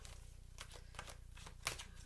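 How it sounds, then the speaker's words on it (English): A deck of oracle cards is shuffled by hand in a quiet room, giving soft, repeated papery flicks and riffles with one sharper snap, faint and close, with no talking. "So now what I'm going to do is I'm going to shuffle them"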